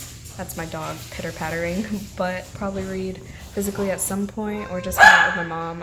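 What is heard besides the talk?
dog barking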